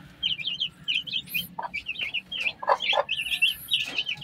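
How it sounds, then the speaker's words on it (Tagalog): Ten-day-old Brahma chicks peep and chirp at a brand-new automatic feeder, giving repeated high, rapid cheeping calls close by, with faint soft tapping beneath. "Tumutuka na sila ngayon"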